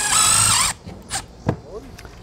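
Power drill driving mounting screws into an RV power inlet on a 2007 Starcraft Homestead camper: a short, loud, whining motor burst, then a few faint clicks and handling noises.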